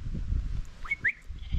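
Two short, high sheep bleats sound close together midway through, with steady wind rumble around them on a Lake District fell between Great End and Glaramara.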